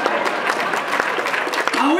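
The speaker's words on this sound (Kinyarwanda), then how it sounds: "amashyi menshi cyane kuri sister wanjye" At a comedy show, an audience applauds for a performer's sister, and the short burst of clapping is mixed with a talking voice.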